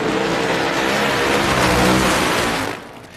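A drag racing car does a long burnout at Indy during the 1995 NHRA US Nationals, producing a loud, dense roar of engine and tire noise that holds steady before dropping away near the end.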